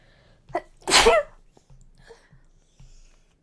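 A single loud, close sneeze bursts out at about one second, with a small sharp intake just before it and quiet breathing and faint room noise in the seconds after.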